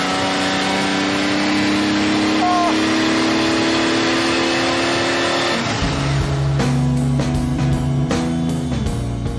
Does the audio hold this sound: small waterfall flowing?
no